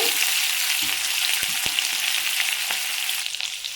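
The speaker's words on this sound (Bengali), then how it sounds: "প্রথমে আমি তেলের মধ্যে পাঁচ ফোড়ন দিয়ে দিলাম আদা কুচনো দিয়ে দিলাম কাঁচা লঙ্কা কুচনো দিয়ে দিলাম একটু ভাজা ভাজা করে নেব" Ginger, green chilli and panch phoron fry in hot oil for a Kolkata street-style vegetable chop, giving a steady, close sizzle that crackles throughout, with a couple of sharp clicks partway through and no talking.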